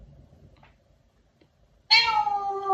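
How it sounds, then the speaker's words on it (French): A young kitten gives one clear, loud meow near the end, a bright harmonic cry rising out of near silence and held for almost a second. "Je suis en compagnie de mon très cher, adorable petit chaton, Coco"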